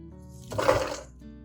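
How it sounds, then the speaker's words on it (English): Warm water poured into a bowl over garlic cloves, a short splashing pour that swells for about half a second and fades, close and clear in a quiet room. "Add warm water around 50 to 70 degrees Celsius to cover the cloves completely."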